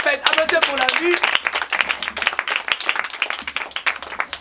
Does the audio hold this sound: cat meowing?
no